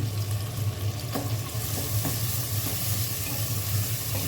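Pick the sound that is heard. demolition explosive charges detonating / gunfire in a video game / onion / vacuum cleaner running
onion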